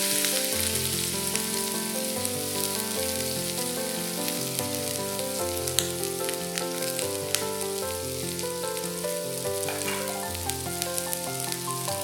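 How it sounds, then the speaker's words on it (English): Shallots and garlic fry in hot oil in a pan, a dense, continuous sizzle with scattered crackling pops, steady and close throughout. "Fry these till they are fragrant."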